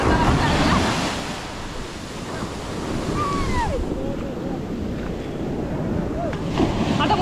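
Ocean waves washing on a beach, a broad, constant roar of surf with wind buffeting the microphone, loudest at the start and then settling to a steady wash, with a faint bird call partway through.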